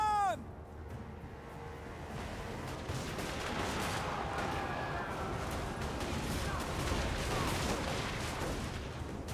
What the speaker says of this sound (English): I'll have the handgunner shoot them